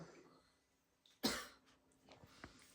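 A single harsh cough bursts out close by, followed by a couple of softer throat sounds in an otherwise quiet room.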